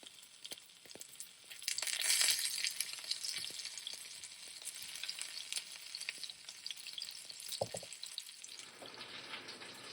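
Pork roast searing in a hot pan: a steady, close sizzle and crackle of frying meat that swells early, then settles into an even hiss, with occasional spits, scrapes and a soft thump, no voices.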